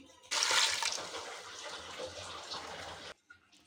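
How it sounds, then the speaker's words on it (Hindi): A steady rush of water pours for about three seconds, splashing into a pressure cooker of spiced bottle gourd and mutton, then cuts off abruptly. "अब हम इसमें पानी शामिल कर देते हैं।"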